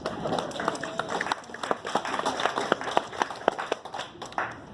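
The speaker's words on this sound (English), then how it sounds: "Can you all please give each other a round of applause?" Friends reception audience at the Denver Zoo giving a round of applause, with scattered sharp claps over a murmuring crowd, moderately loud and uneven throughout.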